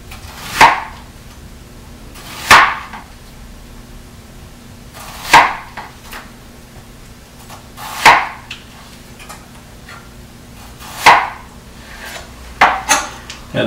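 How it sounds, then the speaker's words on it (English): A knife cuts food into thin slices on a board, giving about seven sharp, close knocks spaced a couple of seconds apart, with two quick strikes near the end and nothing else heard. "Technique I like is to cut into thin slices,"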